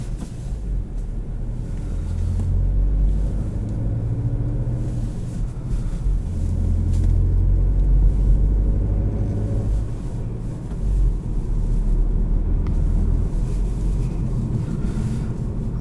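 A 2021 Volkswagen Golf GTI SE with a manual gearbox on the move, its steady low engine and road rumble droning throughout with some wind noise and slight swells as it accelerates.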